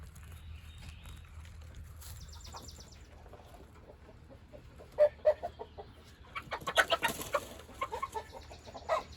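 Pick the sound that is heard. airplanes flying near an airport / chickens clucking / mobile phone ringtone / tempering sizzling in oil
chickens clucking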